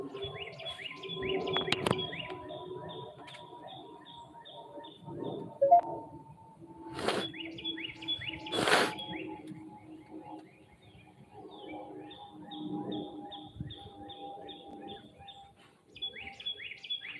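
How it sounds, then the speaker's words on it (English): Several birds chirping and tweeting outdoors in repeated short bursts, with a dove cooing faintly and a few sharp knocks. "You hear all the birds over here"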